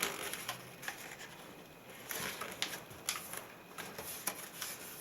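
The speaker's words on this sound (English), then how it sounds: "We're going to fold the flap." Origami paper being creased and folded into a flap for a heart-shaped figure, a dry crisp rustle with quick papery flicks and taps, close and quiet, no voices.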